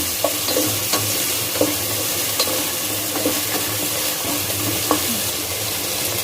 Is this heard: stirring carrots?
yes